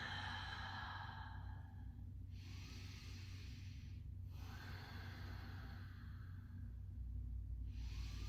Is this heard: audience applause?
no